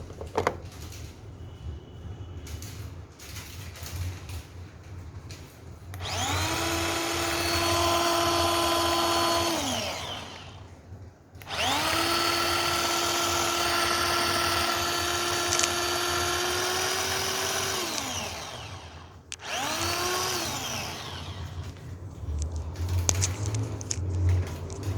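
An electric garlic chopper grinds garlic in two long bursts, a high motor whine that ramps up, holds steady and cuts off, followed by a short third burst, all close and loud with no talk.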